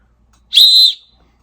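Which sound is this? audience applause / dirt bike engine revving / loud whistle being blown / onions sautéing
loud whistle being blown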